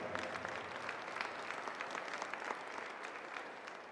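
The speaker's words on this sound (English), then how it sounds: "Big round of applause." A crowd applauds at a university track and field national championship, with a veteran being introduced; the clapping is sustained and even, a broad wash of many hands that carries on without a break.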